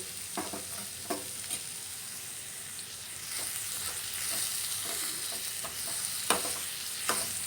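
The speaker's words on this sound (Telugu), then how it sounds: "తరిగి పెట్టుకున్న బీరకాయ ముక్కలు వేసుకోవాలి ఇందులో కొంచెం సాల్ట్ యాడ్ చేసుకుని" Chopped ridge gourd pieces fry with a soft continuous sizzle and hiss in a pan, with occasional spatula taps and stirring scrapes, fairly quiet and close.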